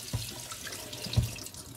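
Rice being rinsed under running tap water in a kitchen sink before cooking plov, with a steady, close splashing stream and a couple of soft thuds.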